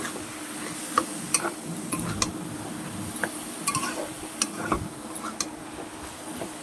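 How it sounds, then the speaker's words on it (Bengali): Banana flower being stirred in a frying pan for a prawn dish, giving soft scraping with scattered light ticks and clinks of a utensil against the pan, steady and close, with a faint sizzle underneath. "এবার মোচাটাকে ভালো করে নাড়তে হবে, এই যে সুন্দরভাবে নাড়াচাড়া দিয়ে।"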